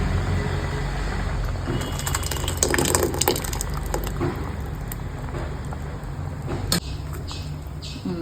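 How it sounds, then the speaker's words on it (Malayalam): Ground coconut paste is poured into a mango pulissery curry in a pot, making a continuous wet, gushing pour with a sharp clink near the end, close up and without speech. "ഇത് അതിലേക്ക് ഒഴിക്കാൻ പോവണേ."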